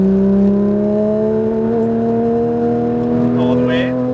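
Porsche 991 GT3 RS on a race track, engine droning loud and steady with rising harmonic tones as it pulls harder, a brief higher whine near the end.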